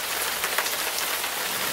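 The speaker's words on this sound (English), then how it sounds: "Yeah, it's really raining out there." Steady rain falls outside, a dense, even hiss of drops pattering on surfaces with no pauses, heard alone without voices.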